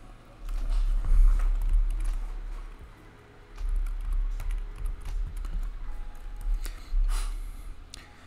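Keys clatter on a computer keyboard while content is entered into a WordPress page, close and moderately soft, in three bursts of quick uneven taps separated by short pauses.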